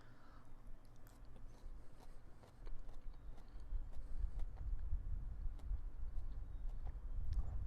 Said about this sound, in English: Hopefully that chewing's not too loud.